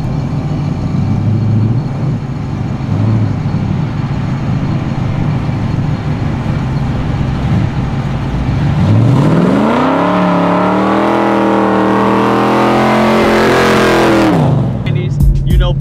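A Box Chevy cruises with a steady engine drone, then revs up in a long rising and falling sweep before dropping back, loud and close, with talk audible at times.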